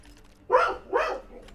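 A dog gives two quick, close barks in a row, loud against a quiet room with faint background noise.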